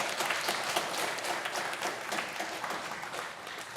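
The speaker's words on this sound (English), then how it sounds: "Please give a very good, big round of applause for our panelists." An audience applauds panelists at a cybersecurity public awareness event, steady dense clapping from a crowd held at an even level throughout, fairly distant and without a voice over it.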